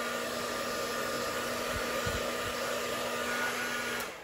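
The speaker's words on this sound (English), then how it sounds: "because you may not be able to hear me with the hairdryer on" A paint-caked household hair dryer on its high setting blows across poured paint, giving a steady close whooshing roar with a constant motor hum that runs throughout and cuts off at the very end.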